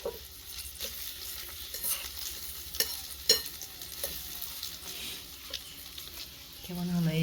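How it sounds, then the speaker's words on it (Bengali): A large egg fries in a pan in a miniature kitchen: a soft, steady sizzle with occasional sharp clicks from stirring or scraping, fairly quiet throughout and louder near the end. "বড় ডিম ভাজছি"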